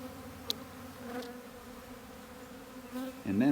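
A steady low drone of a honey bee swarm buzzing, faint and continuous, with a few individual bees passing closer.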